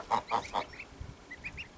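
Geese give three loud, evenly spaced honks up close, then a few fainter, higher calls follow after a short pause.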